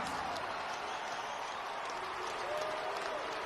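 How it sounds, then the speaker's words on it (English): A crowd applauds at a main event championship fight after five rounds. Dense, even clapping fills the whole few seconds at a moderate distance, with no pauses. "let's give these two warriors a big round of applause"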